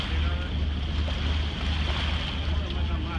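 A boat on the water near Phi Phi, a deep steady engine hum beneath washing waves and wind noise, continuous and fairly close.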